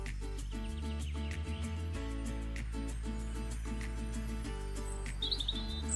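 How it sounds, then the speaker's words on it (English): Small songbirds chirp and twitter in a continuous run of short, high tweets and trills, moderately close and fairly soft, set over a steady low hum, with no one talking. "now you know birdsong is a disturbance of particles"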